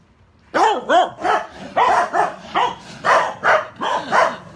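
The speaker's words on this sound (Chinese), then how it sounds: "外面有狗狗叫" A dog barks outside in a rapid run of about ten loud, close, sharp barks, with no talk over them.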